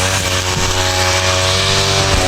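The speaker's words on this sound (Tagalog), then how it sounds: "Paggamit yung grass cutter, ang bilis na talaga matapos." A grass cutter runs nonstop while clearing the ground around a hut, with a loud, close, steady two-stroke engine whine that holds at high revs throughout and has no voices.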